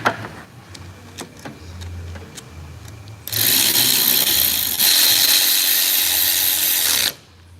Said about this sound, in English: I used this other, the same electric ratchet with an 8 millimeter.